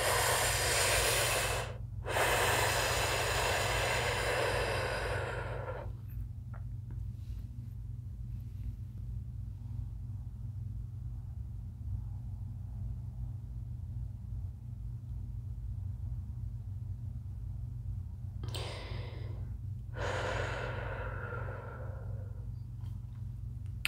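Deep breathwork breathing, a long forceful exhale lasting several seconds, then a quiet held pause over a low steady hum, and another strong rushing breath near the end, close to the microphone.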